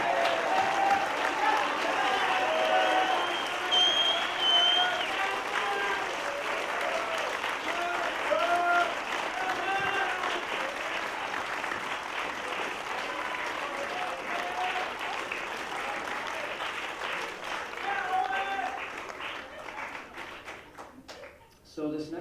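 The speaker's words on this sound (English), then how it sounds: "we need to offer you guys a huge round of applause" Sustained audience applause in a concert setting honoring the graduating 2020 high school band class, steady dense clapping for about twenty seconds before tapering off at the end.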